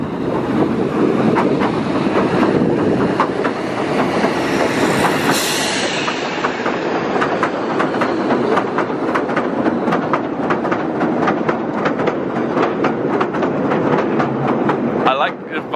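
A creaky little train runs along Southend's long pier and passes close by, with a steady rhythmic clickety-clack of wheels on track, some wheel squeal and wind buffeting the microphone throughout.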